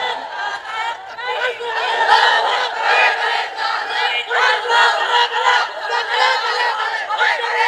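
A large crowd at an Islamic sermon gathering shouting takbir in unison, a loud, dense roar of many voices rising and pulsing in waves for several seconds.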